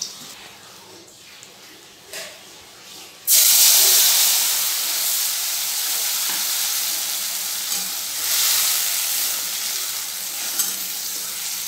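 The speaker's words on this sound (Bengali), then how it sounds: "এবার তেলে পোস্ত বাটাটা ছেড়ে দেবো।" Poppy seed paste drops into hot oil in a pan after eggs have been fried. A quiet stretch gives way to a sudden loud, steady sizzle and hiss that carries on with slight swells.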